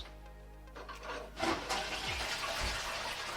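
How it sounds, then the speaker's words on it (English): A Japanese apartment toilet's tank-top hand-wash tap runs after a flush, giving a steady broadband rush of water that swells and continues throughout, with faint plumbing gurgles and no talk. "And the water comes out to wash your hands."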